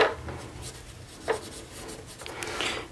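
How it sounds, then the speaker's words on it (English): A brush sweeps a thin coat of Mod Podge across a clear windowed paper envelope, giving soft close scratchy strokes in short bursts with quiet gaps between them. "first we want to put down a really thin layer of Mod Podge"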